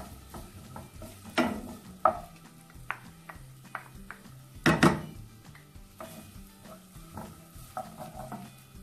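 Onion frying in a mix of butter and oil, with a soft sizzle under clinking and scraping of a utensil against the pan, including a few louder knocks.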